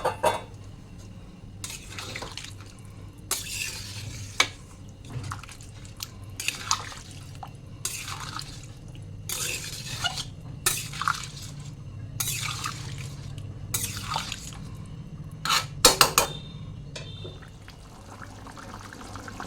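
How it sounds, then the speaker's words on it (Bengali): Hot water is poured into a pan onto a fried spice paste, giving intermittent splashing and sizzling bursts with light clatter against a low background hum. The sound is moderately quiet, with no talking. "গরম জলটা দিয়ে দেবো।"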